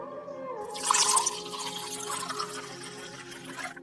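Water being poured for drinking in a cartoon, heard as a close splashing pour with a bright burst of droplets near the start that settles into a softer trickle under a low background hum.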